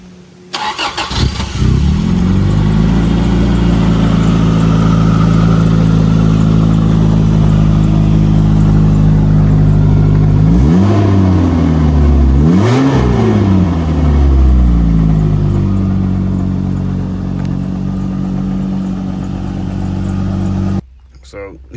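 A 1986 Toyota Corolla AE86 GTS engine cranks and catches, then settles into a loud, steady idle with two sharp revs around the middle before dropping back to idle and cutting off near the end.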